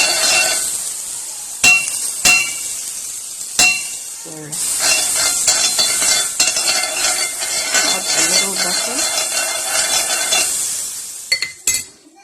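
Butter sizzles loudly in a preheated pan for pancakes, a dense steady hiss broken by sharp clinks of a utensil against the pan near the start and end.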